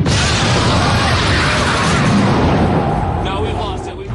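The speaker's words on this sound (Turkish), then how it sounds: "Dip torpilleri patladığında çıkan ses yankılanır." Depth charges exploding underwater make a deep, rumbling roar that swells and lingers, a muffled booming wash that slowly fades toward the end.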